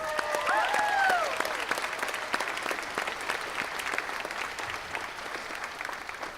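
Audience applauding after a senior clarinet player is recognised at a symphonic band winter concert; steady, dense clapping from a crowd holds throughout, with a few brief whistle-like squeals near the start.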